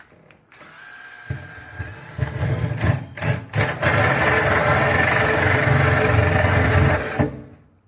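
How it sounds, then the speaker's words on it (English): A Spyder carbide-toothed hole saw bit on a power drill spins up and cuts, a loud close grinding whine holding steady for several seconds after a few brief stuttering starts, then winding down. "This is a hole saw bit by Spyder."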